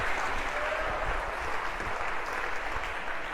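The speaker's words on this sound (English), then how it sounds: "A round of applause for our first volunteer." Lecture hall audience of a Harvard computer science class applauds a volunteer, a steady wash of clapping heard from a moderate distance, even in level and fairly soft throughout.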